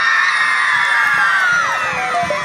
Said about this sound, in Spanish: El grito de las chicas solteritas